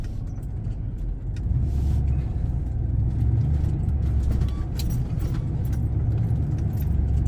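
A loaded vehicle rolls through the Red Oak covered bridge in Woodbury, Georgia, with a steady low engine and tire rumble, faint rattles and clunks from the wooden deck, and no voices.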